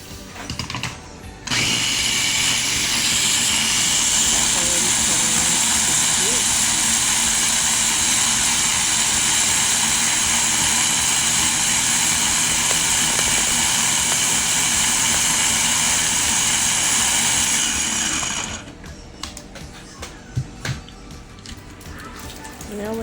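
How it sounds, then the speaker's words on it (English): A blender whirs steadily for about seventeen seconds as mango slices and water are blended for Jamaican mango punch. The motor is loud and close, with a constant high-pitched drone that starts abruptly and stops abruptly. "she's gonna blend it"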